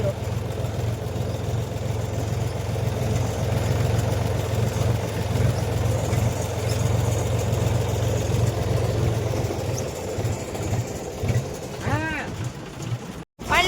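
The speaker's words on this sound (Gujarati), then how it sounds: "આ ટ્રેક્ટર આવી રહ્યું છે તમે જોઈ શકો છો" A tractor engine runs steadily while the tractor drives a curve on GPS auto-steer, a close, continuous low mechanical drone that holds throughout before a brief dropout near the end.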